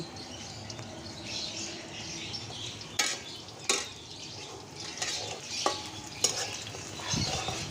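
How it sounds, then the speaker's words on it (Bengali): Onions fry in a pan on a clay stove, a steady sizzle with stirring scrapes and several sharp clanks of a utensil against the pan, with no one talking. "পেঁয়াজ অলমোস্ট ভাজা হয়ে গিয়েছে"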